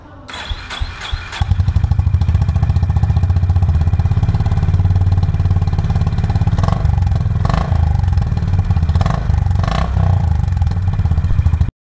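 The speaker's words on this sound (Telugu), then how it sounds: "నెక్స్ట్ మనం ఈ వెహికల్ యొక్క ఎగ్జాస్ట్ నోట్ని చూద్దాం." A 2024 Honda Highness CB350 motorcycle starts with a short cranking clatter, then settles into a loud, steady thumping idle close by, with a few brief blips of the throttle.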